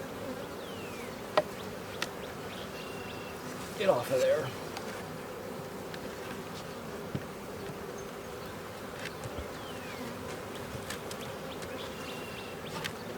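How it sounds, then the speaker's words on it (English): Honey bees hum around an open hive while a second deep box is added to a split in July, a soft steady buzz close by with a few brief louder passes and a short spoken remark. "Now the bees can start working up."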